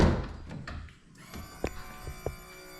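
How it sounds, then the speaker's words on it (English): A car's driver's side door opens with a soft thunk, then the steady electric hum of the oil pump priming sets in and holds, broken by a couple of quiet clicks close by. "you're gonna hear when we open the driver's side door is the oil pump priming"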